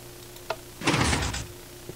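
Minecraft pistons shift a secret bookshelf door in the video game: a short click, then a brief burst of mechanical sliding and thumping that stops quickly, heard alone.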